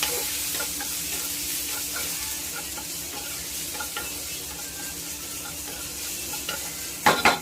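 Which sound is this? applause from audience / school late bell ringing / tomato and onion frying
tomato and onion frying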